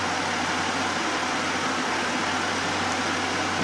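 A Buick LeSabre engine idling, a steady, even hum with a constant low drone and no speech, heard close up.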